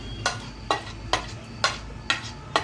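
Garlic potato ball batter being stirred together with spices, gram flour, cornflour and green coriander, giving six soft, evenly spaced mixing strokes, close and fairly quiet with no talking.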